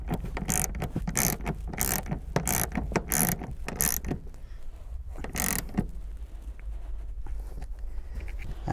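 Ratchet with a 14 mm socket cranked on a car seat bolt in a 2013 Honda Accord, giving quick repeated clicking strokes up close, busy for four seconds, then sparser clicks.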